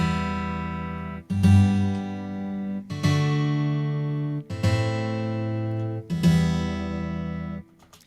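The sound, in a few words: Ample Guitar VST with simultaneous notes, harpsichord-like sound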